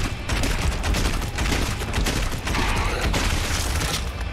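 Rapid, continuous automatic weapon fire in Doom Eternal on Nightmare difficulty, a dense, loud barrage of shots with mechanical clatter, nearly unbroken throughout.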